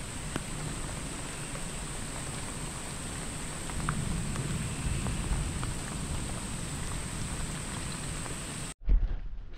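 Steady rain patters on the surroundings during a freshwater fishing trip, a soft even hiss that stops abruptly near the end.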